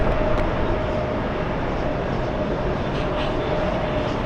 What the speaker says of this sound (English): on the left, JetBlue 454 flying in from West Palm Beach in Florida